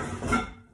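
Kitchen pots are stacked one into another, giving a single short metallic clunk that quickly fades.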